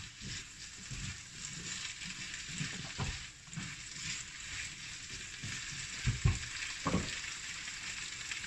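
Garlic sizzles over high heat in a hot pan, a steady close hiss of frying with occasional scraping knocks and clatters as it is stirred now and then, no voices over it.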